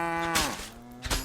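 A cow in the medieval video game Kingdom Come: Deliverance II gives two long, low moos with a short pause between them, heard alone and close.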